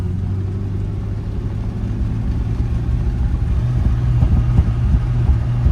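A 1932 Chrysler CP8 rumble seat coupe drives along a twisty road, its engine a deep steady drone that swells louder as it accelerates, heard from inside the car.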